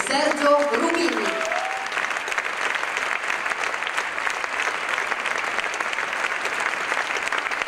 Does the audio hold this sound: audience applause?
yes